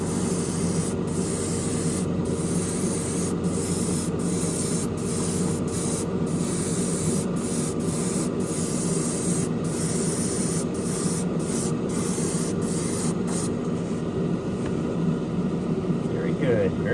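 An airbrush sprays a final coat of paint onto the interior of an AMT Corvette ZR1 model kit, a steady continuous hiss with faint short clicks and pauses in the spray.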